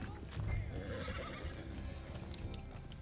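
A horse in the video game Red Dead Online whinnies loudly over clip-clopping hooves as it runs off, with the neigh standing out early and hoofbeats continuing steadily underneath.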